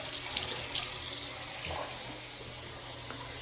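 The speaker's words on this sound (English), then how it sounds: "make sure it comes out, some nice hot water comes out" Hot water runs steadily from a tap into the sink of a powder room during a home inspection, a continuous close hiss and splash, no one speaking.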